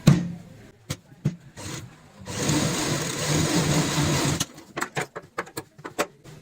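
A sewing machine stitches the finishing seam on a ladies' purse made from old cloth, a two-second burst of steady whirring framed by scattered handling clicks and taps before and after.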